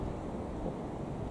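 Wind buffeting a microphone outdoors during an overnight fishing session at a lakeside, a constant low rumbling roar with no voices.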